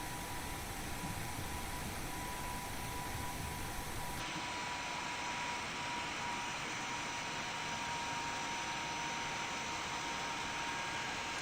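Jet engines of an IXEG Boeing 737 in the X-Plane 12 flight simulator produce a steady, even whooshing roar with a thin constant whine, running unbroken and at moderate level.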